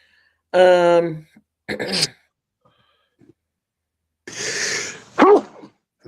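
A single sharp sneeze close by, set among throat-clearing and breathy sounds, with short quiet gaps between them.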